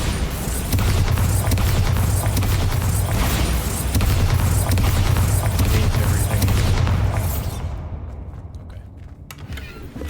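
Bombarda blasting spell explosions from the video game Hogwarts Legacy: a loud, dense run of booming blasts and rumbling impacts rolling continuously for several seconds, then tapering into a quieter tail.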